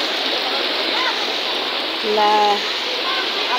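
Typhoon floodwater rushes steadily in Samar, Philippines, a continuous broadband wash like a stream or heavy rain that runs throughout, with a few people talking over it.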